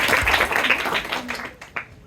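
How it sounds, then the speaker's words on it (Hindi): Audience at a Christmas church meeting clapping, a dense spread of hand claps that thins out and fades toward the end, with a few separate louder claps. "तालियां बजाए अपनी"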